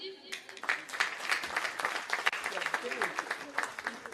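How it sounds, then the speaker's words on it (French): At a Mantes-la-Jolie town hall gathering, an audience claps for members of the Franco-Moroccan retirees' association. A voice briefly opens, then dense, fairly close applause runs steadily to the end. "On les applaudit."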